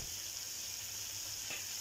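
Bombil fish fry in oil over a medium gas flame, giving a steady, quiet sizzle that hisses on evenly, with one faint clink partway through and no talking.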